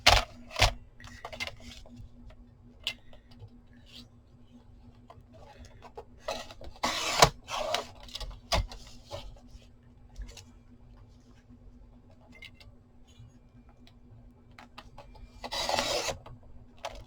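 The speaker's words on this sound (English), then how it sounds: "Paper trimmer." A paper trimmer slicing through paper while trimming a large crafting piece down, with a few short rasping cuts and slides at close range, including a longer drawn rasp near the end, over a low steady hum.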